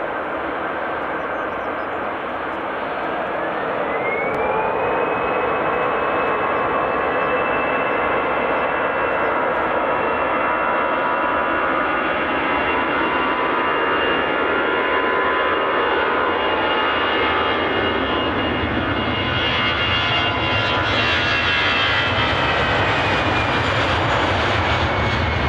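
A Boeing 787 Dreamliner on final approach to Edinburgh airport, its jet engines a sustained whine that grows louder and deeper as it draws near, with no voices.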